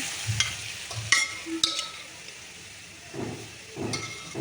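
Boiled masoor lentils and Malabar spinach go into a pan with cumin, giving a soft sizzle and hiss along with a few clinks of the spoon and low, wet stirring sounds.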